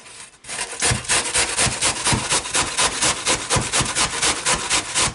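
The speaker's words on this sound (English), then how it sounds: "Now what we want is about 2 apples, 2 large apples, grated." Two large apples grated by hand down to the core in a home kitchen, a steady run of close, rhythmic rasping strokes, each scrape a bright gritty rub repeating about twice a second without talk.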